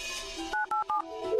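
Telephone keypad being dialed, three short clear two-tone DTMF beeps in quick succession, fairly quiet, following a brief stretch of background sound.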